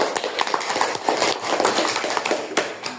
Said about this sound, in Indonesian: Sekarang kita beri tepuk tangan untuk kelompok 1.